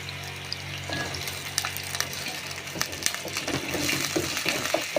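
Garlic, ginger and green chilies sauté in hot oil in a pan for a star fruit pickle, giving a steady crackling sizzle with scraping stirs and small pops throughout, close and fairly loud with no talking.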